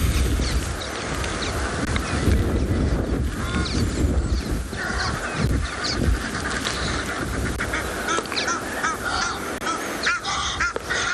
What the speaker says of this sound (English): A lot of Egyptian geese that are making noise.